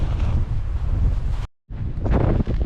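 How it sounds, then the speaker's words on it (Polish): Strong wind blasts across the microphone on a mountain trail in the Karkonosze, heavy and roaring with one brief cut-out, and no talking. "Takiego wiatru jeszcze nigdy w życiu nie przeżyłem."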